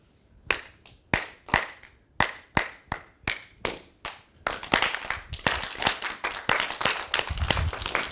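Rhythmic pats on knees form a repeating pattern of sharp slaps, first spaced in pairs, then faster and louder with denser pats.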